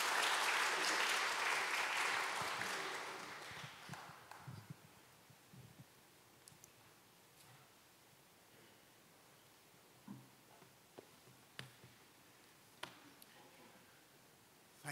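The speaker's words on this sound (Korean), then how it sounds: "크게 박수로 맞아주시면 고맙겠습니다." An academic forum audience applauds to welcome a lecturer, a full burst of clapping that fades out within about four seconds, leaving a quiet room with scattered small knocks and rustles.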